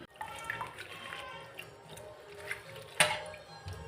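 Leafy greens being rinsed under a running kitchen tap, with soft splashing and dripping and a sharper splash near the end, faint and close.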